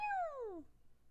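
A cat lets out a single drawn-out meow that slides downward in pitch and fades out, heard close up and alone at a low level.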